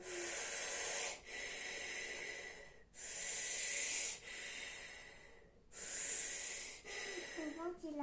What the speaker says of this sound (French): vous vous entraînez à faire des petites respirations comme si vous respiriez dans une paille